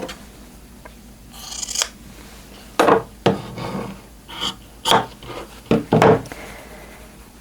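Scissors trimming scrap fabric for a quilt block, with a short series of crisp, close snips and cuts, a few of them clustered together, with no talking.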